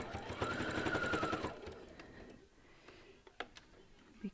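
Sewing machine stitching slippery blanket fabric whirs rapidly for about a second and a half, then stops, leaving quiet handling clicks and taps.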